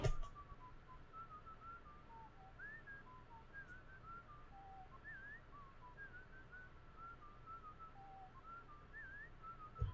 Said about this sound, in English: he's asking me to whistle me an old gnomish tune